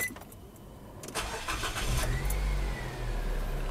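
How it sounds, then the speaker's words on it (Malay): A car engine cranks and starts during a battery cranking test, with a brief starter whir followed by the engine catching and settling into a steady, close idle rumble. "kemudian kita hidupkan enjin kereta"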